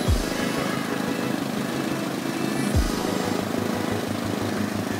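A Piper PA28-140 aircraft engine drones at full throttle, a steady loud propeller buzz with rhythmic low thrumming and two brief pitch dips.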